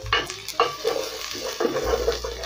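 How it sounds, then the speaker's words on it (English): Onions sautéing in a pan for potato and pumpkin curry, with steady frying sizzle under repeated scraping and clinking stirs of a spoon against the pan, close and continuous. "I'm going to saute these onions till they start turning translucent"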